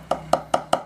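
A drumstick strikes the pad of a cheap Rixton electric drum kit four times at an even, quick pace, each hit a close, sharp tap with a hollow, knocking tone.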